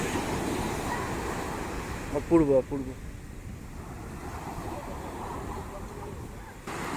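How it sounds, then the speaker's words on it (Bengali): Sea waves break on the shore near Puri, Odisha, a steady roar of surf with wind across the microphone; one person speaks briefly over it. "স্রোতের ঢেউয়ের আওয়াজ"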